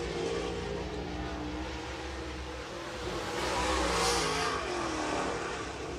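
Late model race cars at Spoon River Speedway roar steadily in a continuous engine drone, swelling slightly as cars pass nearer midway before easing off, with no talking.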